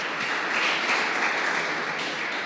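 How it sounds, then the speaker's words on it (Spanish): A church congregation gives a steady wash of applause, dense and even throughout, heard from some distance in a large room with no voice on top. "Vamos a dar un aplauso al Señor."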